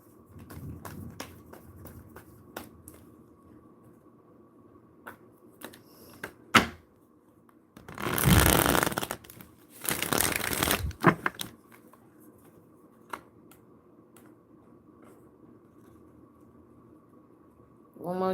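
Tarot cards shuffled during a live celebrity reading, heard as two dense bursts of riffling card noise in the middle of an otherwise quiet stretch with scattered small taps and clicks.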